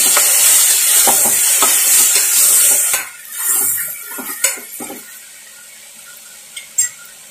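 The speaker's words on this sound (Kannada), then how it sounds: "ಎರಡು ಟೊಮೊಟೊನ ಈ ರೀತಿ ಉದ್ದು ಕಟ್ ಮಾಡಿದ್ದೀನಿ ಅದನ್ನು ಇದಕ್ಕೆ ಹಾಕಿ ಕಾಳು ಜೊತೆಗೆ ಚೆನ್ನಾಗಿ ಫ್ರೈ ಮಾಡ್ತಾ ಇದ್ದೀನಿ" Sliced tomatoes and sprouted beans fry in a pan with a loud, close sizzle at first that dies down, broken by the clink and scrape of a spoon against the pan.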